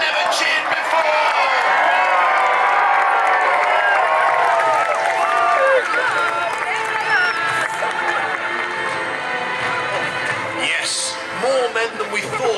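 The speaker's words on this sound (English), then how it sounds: "Cheer now like you've never cheered before." A large outdoor crowd at a Battle of Hastings reenactment cheers loudly and continuously, with whoops and shouts layered over the roar and a little scattered clapping, fading slightly near the end.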